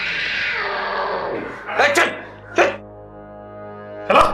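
A cat gives a few short, loud meows in quick succession near the end, following a longer drawn-out cry, set within a dramatic scene.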